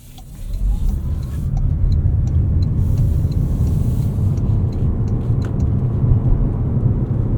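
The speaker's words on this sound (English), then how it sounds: "Super smooth acceleration from this hybrid system." Steady low road and engine hum from inside a 2026 Toyota RAV4 Limited hybrid as it accelerates, a smooth, even drone with tire noise holding at a constant level throughout, no talking.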